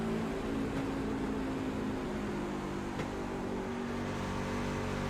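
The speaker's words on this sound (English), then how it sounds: "hear how much he's having to let that truck roll through the corner" A steady engine drone with a low mechanical hum, no revving, from a race truck coasting off the throttle through a corner at Homestead.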